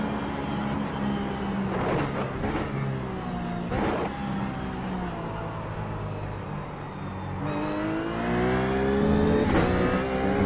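A Ruf GT3 race car at Mosport in iRacing revs hard through repeated gear changes, its engine note climbing and dropping in sweeps, loud and continuous with no speech.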